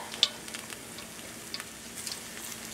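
Battered fish for Baja-style fish tacos frying in hot oil: a steady, close crackling hiss with scattered sharp pops throughout, and no voices.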